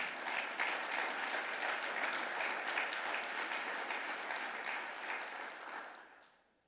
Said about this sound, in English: Like, give everybody an applause.